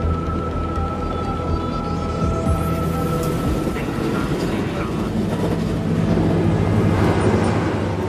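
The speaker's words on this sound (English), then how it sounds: "As the train approaches the next station, Itami, an alarm activates inside the driver's cab." Rapid train 5418M runs toward Itami station with a continuous loud rolling rumble and a low mechanical drone, a steady tone sitting above it throughout.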